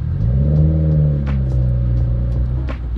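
A Subaru WRX 2015+ with an AMBOT E-tune accelerating on the road, a loud, close engine drone with a deep low rumble that holds steady, plus faint clicks and ticks.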